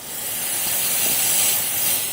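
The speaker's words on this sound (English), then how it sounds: "The steam. That steam is nuts." A steamer used to melt and lift material from a car floor hisses steadily, a loud broadband rush of steam that swells slightly and holds without a break.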